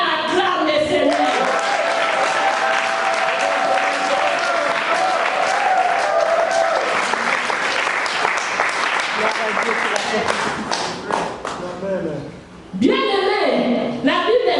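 A church congregation at a women's convention in Creil applauds loudly and steadily for several seconds, with voices mixed into the clapping. The applause thins and briefly dips before a final burst.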